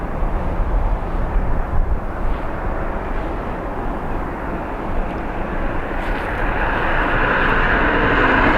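A plane's engines roar continuously at Dublin Airport during reverse operations, a loud broadband rumble that swells slightly toward the end, heard alone without talking.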